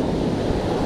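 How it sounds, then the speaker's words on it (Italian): Ocean surf breaks and washes onto a Fuerteventura shore where someone is spin fishing for barracuda, a loud continuous roar of foaming water mixed with wind buffeting the microphone, with no voices. "attenzione alle onde"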